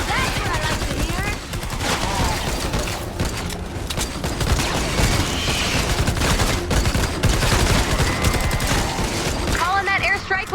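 Gunfire and explosions rattle through a Fortnite Save the World battle, a dense, loud barrage of rapid shots and impacts, with a voice briefly talking over it.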